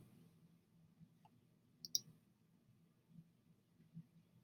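A computer mouse gives a couple of faint, crisp clicks near the middle, isolated over a quiet low hum with no speech.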